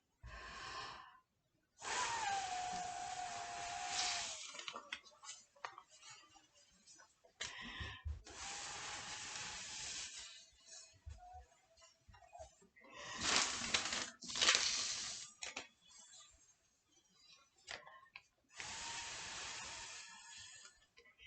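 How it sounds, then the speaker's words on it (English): Paint blown through a straw in several long, breathy bursts separated by pauses for breath, close and airy with a hissing edge. "So I'm going to blow out through the straw"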